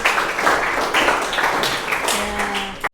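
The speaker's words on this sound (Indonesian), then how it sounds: "Tepuk tangan untuk kelompok 1." Classroom applause for the first presentation group in an Islamic studies teacher-training session, a short burst of mixed clapping from a small audience, with a faint tone near the end before it cuts off.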